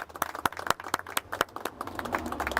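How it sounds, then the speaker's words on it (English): A small outdoor crowd on a historic Pride city walk in Trondheim claps for a gay archive, with scattered, distinct handclaps at moderate loudness and no talking. "I just want to give a little applause, and I think everybody should join me in that"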